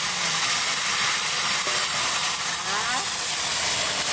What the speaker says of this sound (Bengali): তেল গরম হয়ে গেছে, রাঁধুনি আর দেবো জিরে একসঙ্গে, এই যে জিরে ফোড়নে।